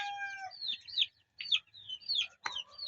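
A bird calls close by in several short, chirping bursts separated by silent gaps, with faint fowl-like clucks low in the background.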